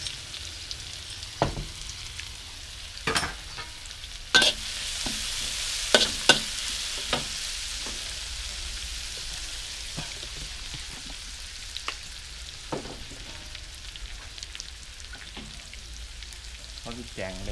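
Curry paste stir-fried in oil for a spicy wild boar stir-fry: a soft, fairly quiet sizzle broken by scattered spatula scrapes and taps against the pan over about seventeen seconds.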